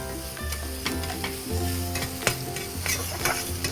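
Crab puttu fries in a pan as a little oil goes in, with a steady close sizzle broken by repeated stirring scrapes and clacks and no voices.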